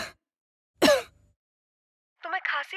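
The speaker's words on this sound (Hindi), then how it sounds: "तुम्हें खांसी हुई है?" Two short, raspy coughs separated by silence, close and fairly loud, followed by a brief voiced sound like a throat clear or murmur.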